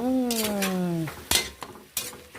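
A spoon stirs nilagang baboy pork stew in a pot, making a few distinct metallic clinks and scrapes against the pot after a brief tonal squeak at the start, with no talk.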